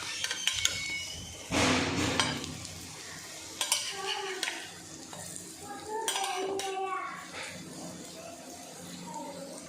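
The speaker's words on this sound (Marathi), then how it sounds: "अलगद पलटली जाते." Fish cutlets made from dried small shrimp are turned over one by one in a frying pan of hot oil, with scraping spatula clinks over a steady sizzle and a few faint voices.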